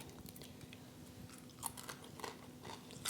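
Crunchy dehydrated caramelized onions being chewed close up, with quiet, repeated crisp crunches and bites over a low background hum.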